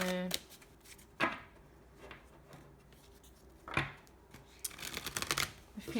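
A thick-cardstock Creatures of the Moon oracle deck is shuffled in several quick, crisp riffles and snaps at close range, with a voice speaking softly between the bursts.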